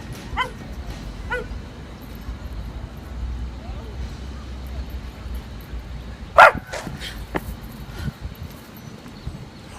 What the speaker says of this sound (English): That girl got bit by a dog!